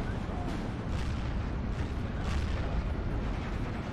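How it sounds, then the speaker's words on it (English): Steel Division 2 battlefield with Sturmtiger and Tiger tanks: dense, continuous rumble of artillery and cannon fire, heavy booms overlapping into a constant roar with occasional sharper blasts standing out. "They're firing at the Cavalier in the open there."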